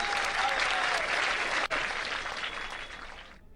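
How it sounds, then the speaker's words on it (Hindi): Audience applause at a ceremony honouring students and their parents: a dense, steady wash of many hands clapping from a crowd, moderately loud, fading out toward the end. "जोरदार तालियों से अभिनंदन।"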